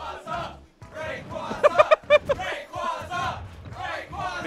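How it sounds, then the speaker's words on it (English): A tournament crowd at a Super Smash Bros. event cheers and shouts. Loud, overlapping voices swell in several bursts, with a cluster of sharp yells in the middle. "The crowd cheering for the man who isn't even here right now."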